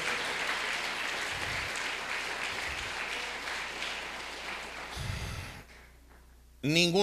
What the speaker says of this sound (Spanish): brinde el mejor de sus aplausos a su auténtico Rey de Reyes